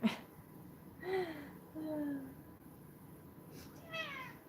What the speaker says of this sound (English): I have like 2 cats around here.